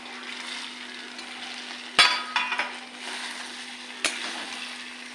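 Potatoes and chickpeas land in hot spiced oil for vegetarian chana masala, giving a steady close sizzle with two sharp clatters as the pieces are tipped or stirred in.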